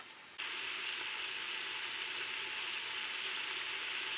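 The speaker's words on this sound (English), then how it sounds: "So I'm going to go ahead and saute this bacon" Bacon sautés in a pressure cooker, a steady close sizzle that starts abruptly and holds as a constant bright hiss, alone without talk.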